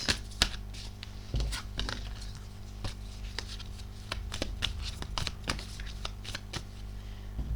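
Tarot cards shuffled and drawn by hand, producing close, crisp riffling flicks and light slaps in irregular bursts, with no talking.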